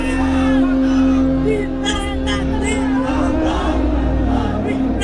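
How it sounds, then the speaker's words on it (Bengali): A congregation at a Bengali Islamic sermon shouts the takbir, bursts of massed voices calling out under a steady hum from the public-address system. "তাকবীর দেন তো একজন আওয়াজ করে"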